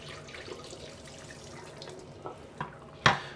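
Used black-and-white film developing liquid being poured out into a kitchen sink, a soft, faint trickle that ends in a few louder drips and splashes.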